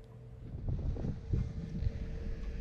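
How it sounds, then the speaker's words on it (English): Wind from Tropical Storm Kay buffeting a boat at anchor in Ensenada Cardonal, a steady low rumble and roar over the microphone, with gusts swelling and easing throughout. "The wind just switched to the north."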